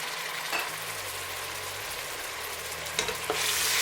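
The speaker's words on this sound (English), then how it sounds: "Allow to fry until dry." A peanut soup base for Cameroonian groundnut soup fries in a pot, giving a steady, close hiss of sizzling with occasional stirring scrapes, and a brief louder burst near the end.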